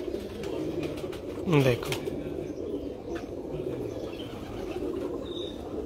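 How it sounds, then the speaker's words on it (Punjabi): A fancier's pigeon on a Sharjah rooftop gives a short, close rising coo, with a brief flutter of wings. Someone speaks briefly over quiet background noise. "ਇਹ ਇੱਕ ਹੋਰ ਨਯਾਬ ਕਬੂਤਰ ਦਾ ਸ਼ੌਕ"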